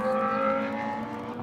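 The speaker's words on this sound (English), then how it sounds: "Let's listen to these great cars navigate Circuit of the Americas, all sorts of engine types." A race car engine drones at high revs at Circuit of the Americas, its pitch held steady and then easing slightly as the car moves along, fairly close.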